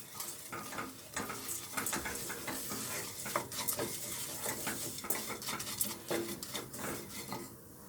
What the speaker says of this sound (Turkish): Unun kokusu çıkana kadar kavuralım.